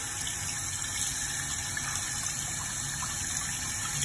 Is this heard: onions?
no